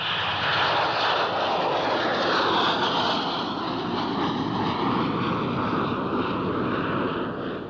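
Engines of a 22.5-ton Dornier jump jet give a loud, continuous broadband roar with a steady rushing hiss that swells slightly and then eases, alone with no talking.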